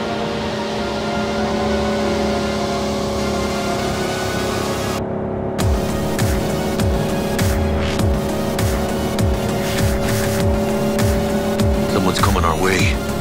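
Car driving in Cyberpunk 2077, a steady engine drone with tyre squeals and rising and falling revs, overlaid by a music or soundtrack tone, with people talking over it.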